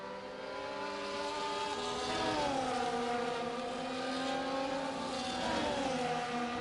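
Several F1 24 race cars from the video game idle and rev together on a rain-threatened formation lap in Spain, a steady layered engine drone with pitch rising and falling, close and loud throughout with no talk.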